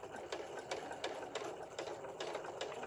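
A sewing machine stitches a scrappy quilt block in rapid bursts, its close mechanical whir pulsing in an even rhythm, fairly quiet and with no talking.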